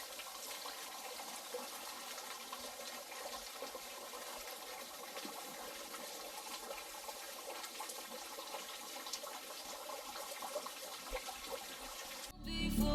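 Fresh water stream flowing on a Utah hike, a faint, even rush and trickle that continues steadily throughout, with a brief louder burst right at the end.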